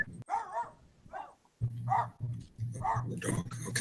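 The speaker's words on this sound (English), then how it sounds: "The dog." A dog yips and whimpers in short bursts, close and fairly quiet, against a low steady hum, with people talking intermittently.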